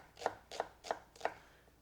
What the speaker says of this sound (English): Now we can get started on the onions. Give these a rough chop